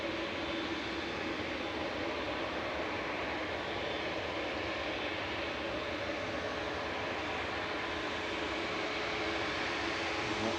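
A Lufthansa airliner arriving from Frankfurt at Manchester Airport gives a continuous, fairly distant jet roar that holds steady throughout, with no talking.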